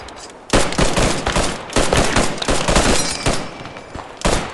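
Sustained machine gun fire in a World War II squad shooter, loud dense bursts running almost the whole time with a brief gap near the middle and another burst at the end.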